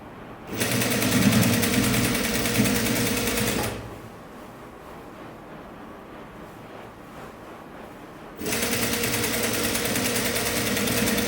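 A sewing machine stitches the folded hem of a sleeveless top in two loud, steady bursts of rapid whirring, separated by a quieter pause of low background hum.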